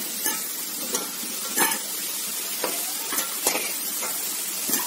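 Fried potatoes are lifted out of hot oil as a mutton dish is being cooked, giving a steady sizzle broken by about eight short metallic scrapes and clinks of a utensil against the pan, no talking.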